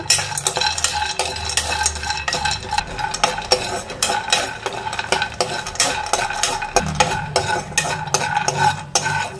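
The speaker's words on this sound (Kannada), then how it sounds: "ಬಾದಾಮಿ, ಗೋಡಂಬಿ. ಇದು ಡ್ರೈ ರೋಸ್ಟ್ ಮಾಡ್ಕೊಳ್ಳೋಣ." Almonds and cashews rattle and scrape in a dry pan as they are dry-roasted and stirred, with irregular clattering strokes and light tapping throughout.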